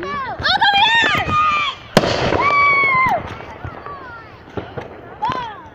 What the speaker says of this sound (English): Fireworks time.